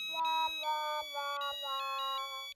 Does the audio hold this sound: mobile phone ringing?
yes